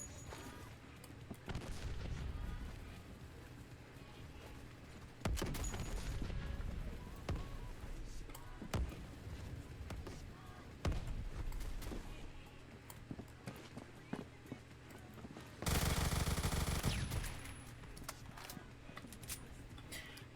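Gunfire and grenade blasts in a Roblox shooter game, scattered sharp shots and thumps with one long loud burst near the end, under occasional quiet talk.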